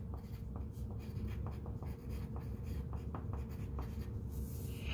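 A pencil writing a name at the top of a sheet of paper, close and quiet, with a steady run of short scratchy strokes and taps and no talking.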